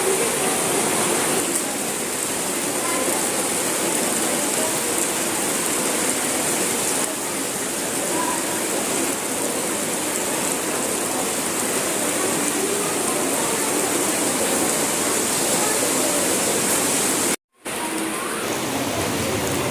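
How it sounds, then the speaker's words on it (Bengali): Steady rain falling through a long morning, a dense even hiss of rain on surfaces that continues unbroken, with one brief dropout near the end. "এই যে সকাল থেকে বৃষ্টি শুরু হয়েছে, এখন বাজে 1টা 1:30 বাজে, এখনো বৃষ্টি হচ্ছে।"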